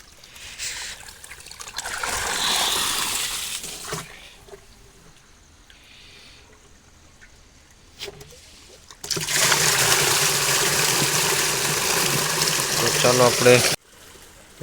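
Water gushes and splashes steadily into a barrel in two long stretches, with quieter pauses between them and a voice at times.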